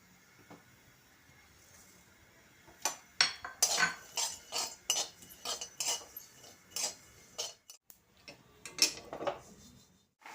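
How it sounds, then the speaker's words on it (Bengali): Black sesame seeds are dry-roasted in a pan, making a quiet, irregular run of clicking and scraping taps as they are stirred, with no talking. "এখন কালো তিল ভেজে নেব"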